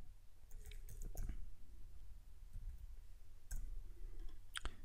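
Computer mouse buttons click at a desk, a few sharp, faint, close clicks scattered irregularly against a quiet room background.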